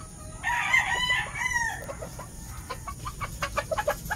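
Gilmore Black gamefowl rooster in a breeding pen, one loud, close crow followed by a run of short, quick clucks.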